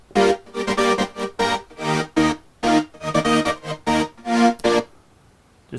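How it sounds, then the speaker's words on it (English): Stacked synth patches, two or three Arturia layers with one real Moog, play a run of punchy, rhythmic chord stabs in short bursts, loud and close, before falling to near silence at the end. "I think this is a combination of Arturia and a Moog,"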